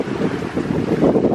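A sailboat under way along a coast in the Strait of Malacca on a fine day with a gentle breeze, wind rushing steadily across the microphone over a low, continuous wash of water.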